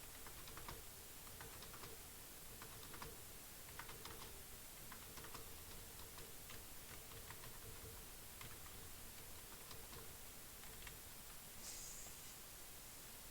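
Rapid keyboard clicking from a player doing power slides in the game Phantom Forces, a steady stream of quick close keystrokes over a constant hiss of background noise.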